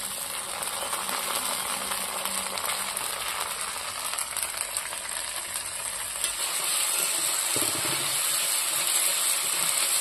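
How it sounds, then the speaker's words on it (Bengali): Garlic, ginger and green chili paste frying with softened onions in a pan, a steady close sizzle and hiss with occasional stirring scrapes, no talk. "এই মশলাটা দিয়ে একটু ভাজা ভাজা হবে"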